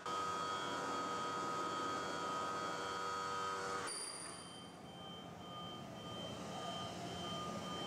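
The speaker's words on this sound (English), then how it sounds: "the hydraulic leveling system's coming down right now, and it will automatically level the coach." Hydraulic leveling system lowering on a Coach House 272XL motor home, a steady droning hum with whining tones that cuts off abruptly partway, leaving a lower, quieter mechanical rumble.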